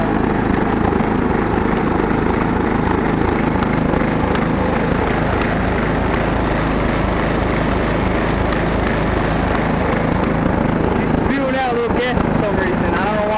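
A snowblower engine runs at a high idle during a season startup. The drone is loud, close and continuous, with a steady rhythmic throb, and some voice mixes in under the engine.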